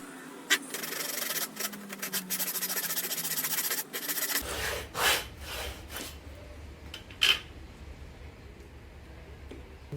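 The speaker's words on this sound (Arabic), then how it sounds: "هننشر قطعة الخشب" Hand-sawing a piece of wood, with scraping, rasping strokes in an uneven rhythm at first, then a lower rumbling stretch with a few sharp knocks, close and fairly quiet.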